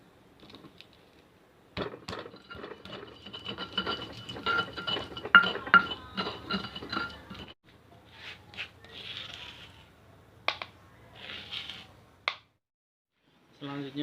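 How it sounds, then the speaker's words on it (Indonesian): Spices being pounded and ground with a stone mortar and pestle for Javanese noodles, a run of close, busy knocks and scrapes for several seconds followed by sparser taps and clinks. "jadi yang pertama kita ulek dulu bumbunya"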